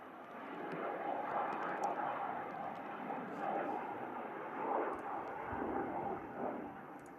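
An airliner departs Manchester Airport, its broad engine roar holding steady and fairly loud throughout, with faint voices mixed in underneath.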